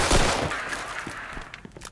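Shotgun blast in the crime game Mafia 2: Definitive Edition, a single loud boom that quickly tails off, followed by scattered fainter impacts and rattles in the game's action.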